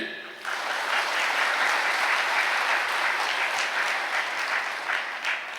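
A church retreat congregation breaks into sustained clapping after a short start, a dense, even applause from many hands that holds steady to the end.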